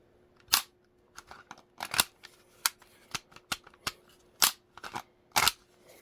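A tactical police-style holster is pressed and released again and again, giving a run of sharp, close plastic clicks and snaps at an irregular pace, with short quiet gaps between them.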